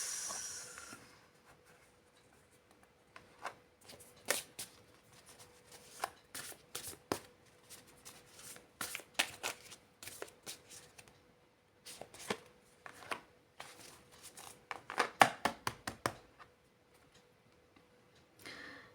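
Tarot cards being shuffled by hand, a faint run of soft irregular riffling clicks and flutters in bursts with short pauses, heard alone in a quiet room.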